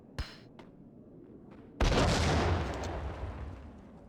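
Grenade explosion in the video game Max Payne, a sudden loud close blast after a few faint clicks, then a rumbling roar that slowly fades.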